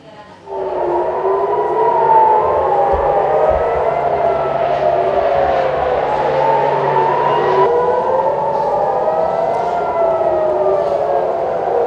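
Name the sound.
emergency air raid sirens in Tel Aviv, Israel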